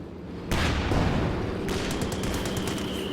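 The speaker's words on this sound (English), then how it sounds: "Whoa, look at that Panzerwerfer barrage!" A Panzerwerfer rocket artillery barrage in Company of Heroes 2 during a 2v2 match: a sudden loud blast, then a fast rhythmic string of repeated launches and impacts over a continuous battlefield roar.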